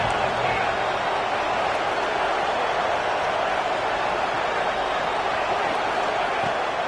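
Texas Tech Red Raider football crowd roaring at a stadium on a third-down play, a steady, loud, dense wall of crowd noise that holds without a break.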